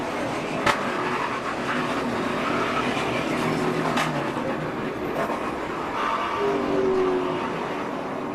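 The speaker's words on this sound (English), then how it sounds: "One car hard in the wall, Kurt Busch." NASCAR race cars roar past on the track after a crash into the outside wall at turn 4, a loud continuous engine drone with passing swells, heard without talk.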